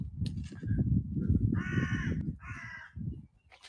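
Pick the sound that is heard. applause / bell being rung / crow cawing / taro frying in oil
crow cawing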